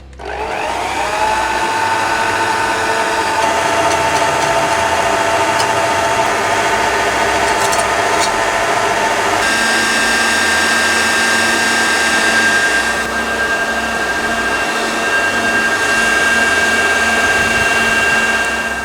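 An electric mixer whirs steadily and loudly while beating eggs for a chocolate mousse, its motor pitch shifting partway through as the speed changes.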